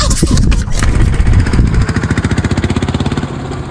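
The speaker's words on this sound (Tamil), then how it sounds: "என்ன பெட்ரோல் அடிச்சுன்னு வண்டி சீருது" Auto rickshaw engine after refuelling, first a rough loud burst of revving, then settling into a fast, even putter of pulses close by, with a little talk around it.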